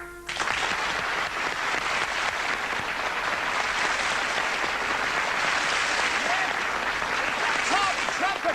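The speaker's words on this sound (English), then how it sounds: "Give them a round of applause, mate." Studio audience applause at a live television entertainment show, a loud, dense burst of many hands clapping that starts abruptly and holds steady to the end.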